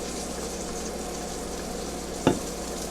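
Food frying in a pan, with a steady close sizzle running throughout and one short clank partway through.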